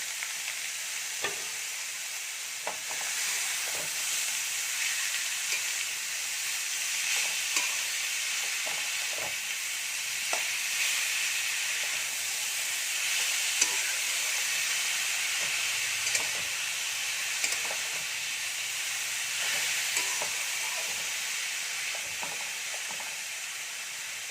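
Carrot and beetroot fry in a pan with a steady, even sizzle and hiss, broken by faint stirring taps and scrapes throughout.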